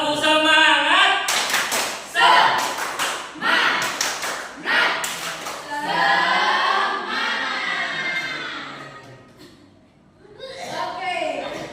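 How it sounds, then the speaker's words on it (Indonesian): Classroom children doing a rhythmic spirit clap: sharp, patterned bursts of clapping mixed with chanting voices, then a short pause and a teacher's voice. "Oke, tepuk semangat."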